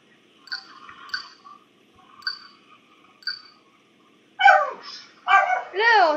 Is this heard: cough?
no